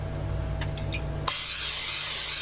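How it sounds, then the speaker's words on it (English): Pam cooking spray hisses onto a round casserole dish in one steady, close burst lasting over a second, after a brief quiet moment of faint handling clicks. "Now I'm going to spray this circular dish with some Pam right here."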